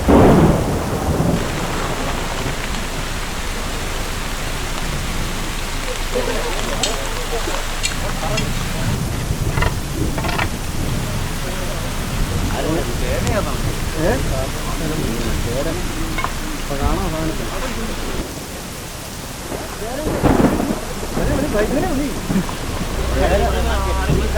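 Sudden heavy rain pours steadily at night, with rolls of thunder rumbling through the downpour; people talk intermittently beneath the constant wash of rain.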